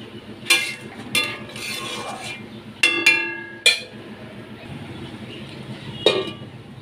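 A metal lid is lifted off a pot of hilsa fish cooking with taro, giving several sharp, ringing clinks spaced a second or two apart over a quiet kitchen background.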